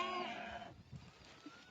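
Goats with their kids arriving at a rural herders' camp bleat once in a long, wavering call close by, then faint scattered rustles and low sounds follow.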